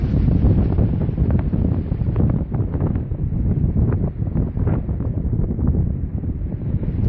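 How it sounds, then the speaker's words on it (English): Strong outdoor wind gusts roar loudly and continuously around a wooded spot among trees and bushes, a rough, surging low rush with no voices. "you can hear the wind picking up there now"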